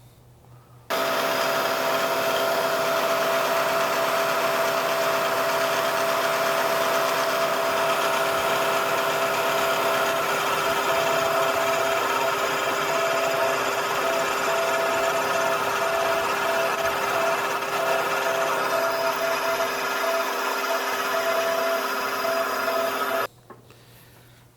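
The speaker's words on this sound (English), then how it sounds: "Next, we'll drill this just slightly undersized." A steady, loud mechanical whir of a drill boring a hole in metal, running continuously for over twenty seconds, then cutting off abruptly.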